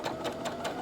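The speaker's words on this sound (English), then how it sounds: "we're going to place them right sides together and stitch with a 1/4 inch seam" A sewing machine stitching a 1/4 inch seam with fabric placed right sides together, a steady close whirring hum with a quick regular needle pulse throughout, no voices.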